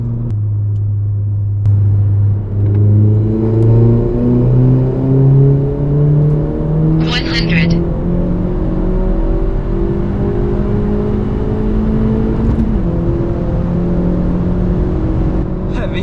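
A VW Golf 7 with a 1.4 TSI engine, IHI hybrid turbo and Stage 3 tune pulls hard in third gear from about 60, its engine note rising steadily under a loud, close cabin rumble, with a brief turbo whistle partway through.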